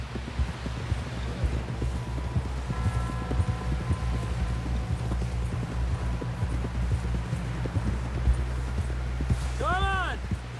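A horse gallops in the Western video game Red Dead Redemption 2, with continuous rhythmic hoofbeats under a low ambient bed, faint and steady, ending with a brief rising tonal sound.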